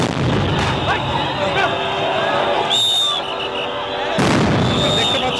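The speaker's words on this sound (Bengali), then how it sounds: "পুলিশ সাউন্ড গ্রেনেড এবং জলকামান নিক্ষেপ করছে।" Police sound grenades go off amid a street crackdown with water cannon, heard as loud booming bursts and sharp pops over continuous crowd noise, with a voice talking throughout.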